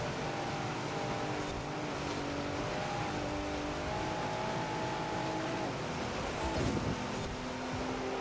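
A Ford Raptor truck engine racing in Forza Horizon 4: a loud, continuous roar with rising and falling pitch as it revs and shifts, over rushing noise, with no pauses.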